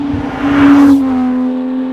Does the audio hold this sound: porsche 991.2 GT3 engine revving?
yes